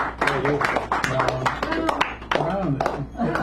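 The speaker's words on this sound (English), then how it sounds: "Give him a round of applause, ladies, because he's one of my best friends" Audience at a poetry hour in a San Francisco cafe clapping for a performer, scattered hand claps mixed with people talking and laughing over them.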